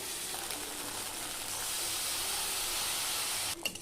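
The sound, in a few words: spice paste with tomato and nuts sizzling in pan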